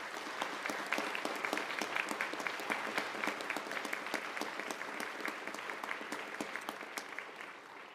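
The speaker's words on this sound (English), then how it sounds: "just give a great round of applause to our faculty members" A crowd at an academic gathering gives faculty members a sustained round of applause, with crisp, distinct claps forming a lively, even rhythm for several seconds before easing slightly.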